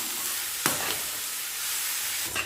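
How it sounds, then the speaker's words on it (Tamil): Boiled, drained cabbage is tossed into hot oil with onions, making a constant close sizzle broken by a couple of sharp scraping stirs, with no talk. "காயை சேர்த்து நல்லா மிக்ஸ் பண்ணி விட்டுருங்க."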